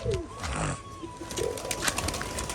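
A king pigeon is being released to fly, with a soft pigeon cooing and a brief rustle close by, then quieter bird sounds and faint outdoor background, no talking.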